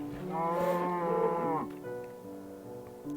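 A cow in Minecraft gives a loud, close, drawn-out moo lasting over a second, followed by a softer trailing tone and faint game sounds, with no talking.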